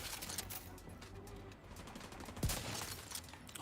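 Gunfire in The Division 2 sounds as a scatter of sharp, mid-distance shots over a busy battle backdrop. One heavier close report lands past the midpoint.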